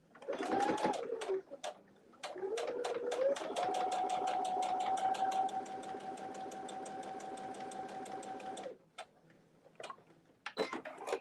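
A sewing machine top-stitches a pocket in short bursts, then settles into a long steady run of rapid rhythmic needle clatter with a motor whine. It stops and gives a few brief clicks, all close by.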